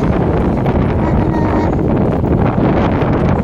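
Strong wind on the Whampoa Promenade buffets the microphone with a constant, loud, rumbling roar that holds steady from start to finish.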